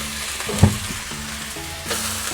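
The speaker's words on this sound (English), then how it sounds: "right now I'm gonna toss in my veggies" Vegetables tossed into a hot wok of golden egg shrimp fried rice, giving a steady close sizzle with a brief clatter as they land, no voices.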